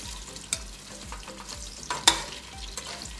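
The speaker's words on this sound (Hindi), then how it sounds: "और अब हम प्याज को पकाएंगे जब तक ये लाइट पिंक ना हो जाए।" Onions frying in ghee in a pan while being stirred, with a steady sizzle broken by several sharp utensil scrapes and clinks, close and fairly loud, no voices.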